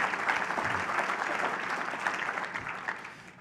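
An audience at the TechNet Augusta conference applauds with dense, steady clapping that fades slightly as it goes on, with no talk over it.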